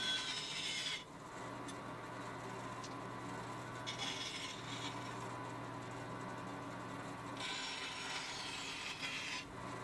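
A bandsaw trims excess wood from a glued-up guitar body blank, with quiet rasping cutting passes in a few separate bursts over a low steady machine hum.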